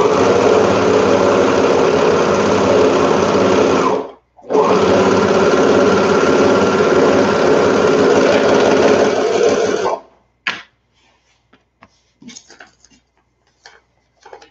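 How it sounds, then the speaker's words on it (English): A sewing machine or serger stitching the edge of swim shorts runs loud and close in two long continuous stretches, a brief stop between them, then stops, leaving a few light handling clicks. "So I'm going to sew or serge this edge."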